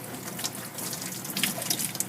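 Tap water runs steadily from a faucet into a sink while soap is rinsed off a Persian kitten, a continuous close splashing hiss with small bursts and no voices.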